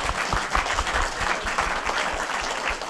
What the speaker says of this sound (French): on vous applaudit, merci parce que c'est pas